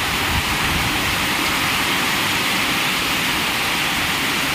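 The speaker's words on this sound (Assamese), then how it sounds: "আজি উল্টা উভতা বৰষুণ দিছে" Heavy wind-driven rain pours down and blows onto a veranda and flooding courtyard, making a dense, unbroken roaring hiss at constant loudness from start to finish.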